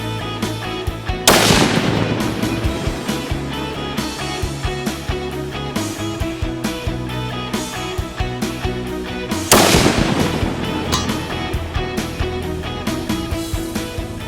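Two loud, sharp rifle shots from a Tikka T3x UPR chambered in 6.5 Creedmoor, fired at a 1000-yard target, come several seconds apart. Each blast is followed by a long echoing tail, over a steady rhythmic background beat.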